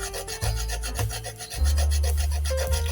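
Carrots are rubbed against a sharp kitchen grater for juice, giving steady rasping strokes in a repeated back-and-forth rhythm, close and fairly loud with no voices.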